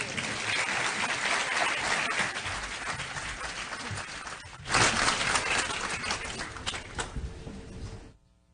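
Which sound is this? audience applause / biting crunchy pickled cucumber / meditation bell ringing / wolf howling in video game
audience applause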